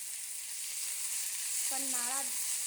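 Potatoes and onions sizzle steadily in hot oil in a pan for a Bengali katla fish curry as they are stirred together, with a brief wavering squeak-like tone rising near the end.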